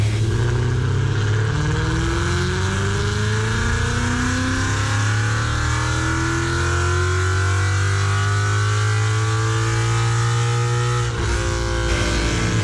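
A supercharged 2016 Ford Mustang revs hard on a dyno during a baseline pull, the engine note climbing steadily for about eleven seconds before cutting off abruptly, loud and close with no talking.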